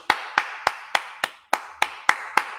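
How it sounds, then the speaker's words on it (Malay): At a business seminar, close single hand claps ring out one after another in an evenly spaced beat, about nine sharp claps in a row, clear and isolated rather than a crowd's wash of applause. "Tepukan sekali lagi."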